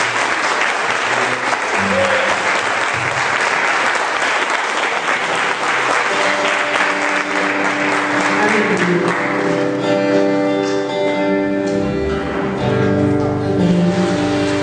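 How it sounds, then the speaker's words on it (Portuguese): A church congregation breaks into loud sustained applause during a worship service, a thick wash of clapping with crowd noise as music and voices rise beneath it toward the end. "Eu quero Te convidar a dar uma grande salva de palmas para o Senhor Jesus"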